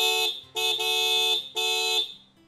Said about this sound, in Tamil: ஒரு பைக்கோட ஒரு ஹாரன் சவுண்டு கேட்குது.